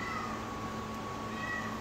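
A cat meows in a drawn-out, fairly faint wail over steady background hum, with no talking.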